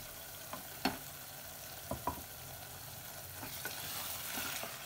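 Onions fry with ground tomato on low heat for jackfruit curry, a soft, continuous sizzle with a few light spatula scrapes and taps now and then, quiet and close.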